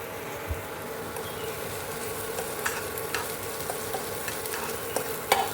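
Chana dal, urad dal, onion and a little carrot sizzle in a pan on an induction cooktop for vermicelli upma, a steady crackling fry with occasional stirring scrapes close by.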